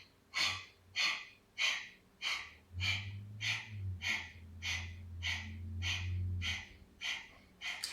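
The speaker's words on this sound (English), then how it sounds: "expel the breath out through the sinuses" Forceful breaths pushed out through the nose during a seated breathing exercise, about a dozen sharp nasal exhales in a steady rhythm, close and loud, with a low hum underneath in the middle stretch.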